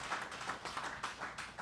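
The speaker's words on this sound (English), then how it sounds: "Round of applause." Applause from a live audience at a longboard surfing talk, a loose patter of hand claps rising and falling in bursts, moderately close and without speech over it.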